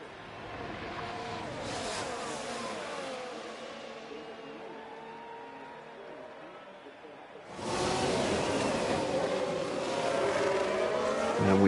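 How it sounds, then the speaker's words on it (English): F1 Manager 24 race cars at Lusail circuit roar past in an overtake, a sustained engine drone that fades then surges louder as another car sweeps close, with a commentator's voice over the engines. "And we swoop past the Ferrari like it wasn't even there"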